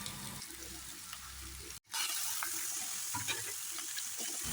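Garam masala and turmeric powder frying in oil in a pan while cooking onion rice bath; steady close sizzle runs throughout, broken by one brief dropout before resuming louder with scattered stirring clicks.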